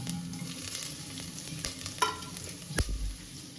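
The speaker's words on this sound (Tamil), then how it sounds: "இஞ்சி பொரியட்டும்." Ginger and black pepper fry in oil in a pan for ven pongal, a soft continuous sizzle broken by stirring scrapes and a sharp clink of the spoon near the end.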